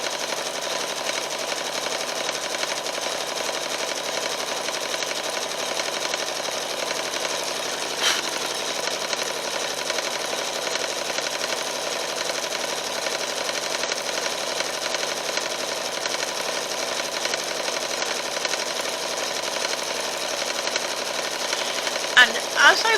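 A sewing machine runs at speed while stitching out a mug rug, a close, even, continuous whir that holds steady from start to finish.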